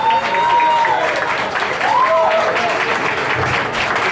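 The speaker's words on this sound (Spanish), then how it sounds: "brindemos un fuerte aplauso a la señorita Ángela Sullivan y Alberto La Soberana" Audience applause for a dance couple at a dance reality show, loud sustained clapping from a crowd that fills the whole stretch, with a voice faintly audible underneath.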